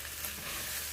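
Carrots dropped into a hot pan of onions and spices for sambal pork ramen, giving a steady, close hiss of frying oil with faint stirring, continuous and fairly loud with no talking.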